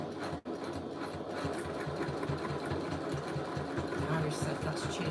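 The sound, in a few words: sewing machine stitching a bag exterior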